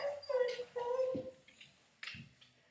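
A dog whimpers and whines in high, wavering bursts during a home core workout, fairly quiet, with short pauses and a soft yip near the end.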